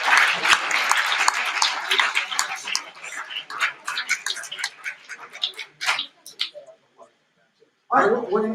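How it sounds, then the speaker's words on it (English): Audience applause at a school Scrabble championship, a dense burst of many hands clapping that thins into scattered claps and stops, then a voice begins speaking at the end. "So everyone, just give yourselves a round of applause."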